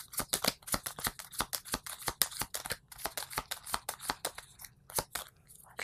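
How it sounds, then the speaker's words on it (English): Playing cards for a board game are shuffled by hand, a quick run of sharp, crisp riffling snaps in rapid bursts, close and fairly quiet, with no talking. "So then I have to shuffle these up."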